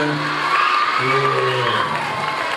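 A crowd at a Balinese clekontong mas performance in Ketewel, Gianyar, cheers and whoops in a steady, loud din, with voices shouting over the noise for the whole short stretch.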